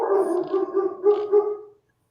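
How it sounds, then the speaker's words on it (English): Dogs bark in a quick cluster of harmonic yelps at a passerby on the road, fairly close and loud, then the sound cuts off to silence. "Barking at somebody walking down the road"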